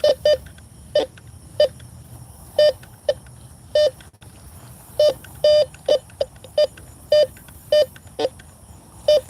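A Bounty Hunter metal detector sweeps near a picnic table area at night, giving a string of short, loud electronic tones in an uneven rhythm over a faint low buzzing hum.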